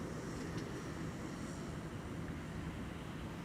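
A Delta Airlines airliner moving on the ground at Schiphol, a faint, steady low engine rumble heard from a distance with no other sounds.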